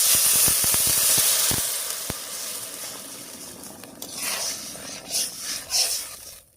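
Water poured into a hot pan of partly fried potatoes for a vegetarian greens dish erupts in a loud, close hissing sizzle that fades over several seconds, followed by softer bubbling and a few clinks.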